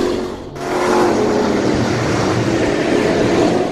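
C Class late model race cars roaring around the Alltech Raceway oval in a night heat, a loud sustained engine drone with a brief dip before the full roar returns, close and unbroken, no talk.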